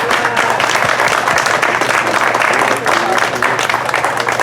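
A crowd at a public county meeting on pesticide use in Monterey and Santa Cruz, California, gives a young speaker a loud round of applause, with voices talking over the clapping.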